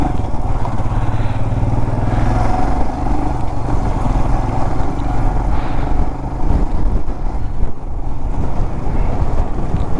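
A motorcycle cruises along the old Pune–Mumbai highway, its engine a steady, close drone blended with constant wind rush for the whole stretch, with no voices over it.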